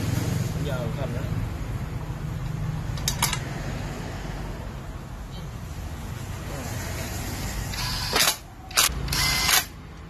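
A socket wrench ratchets on a Honda Forza 300 scooter: a short burst of clicks, then three quick ratcheting bursts near the end, over a steady background hum with a voice talking.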